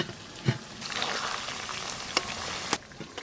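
Chicken chaap frying in oil in a kadai gives off a steady close sizzle, broken by a few sharp clinks and stirring knocks of a utensil against the pan, with no voices.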